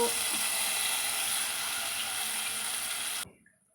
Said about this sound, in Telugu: చింతపండు రసం ఇప్పుడే పోసింది